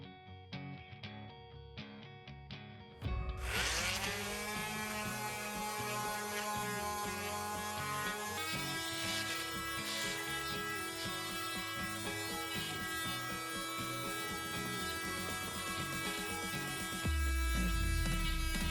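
An electric sander works live-edge cherry wood with 80 to 220 grit sandpaper, giving a steady, faint motorised whine with a constant hum. After a few seconds of rough noise it settles into an even drone.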